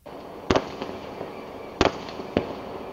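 Synthetic fireworks effect with three sharp, loud bursts spaced irregularly over a low rumbling background, each a brief crack with a short decaying tail.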